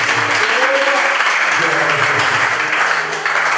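A church congregation claps and cheers in a dense, loud, continuous burst of applause, with voices mixed in throughout.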